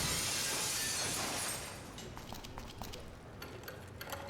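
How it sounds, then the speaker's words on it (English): Glass shatters loudly in the Dead Synchronicity adventure game, a dense crash that dies away after about a second and a half into faint, scattered tinkling of falling shards. "let's cross our fingers that the seat cover absorbs the noise of the breaking glass"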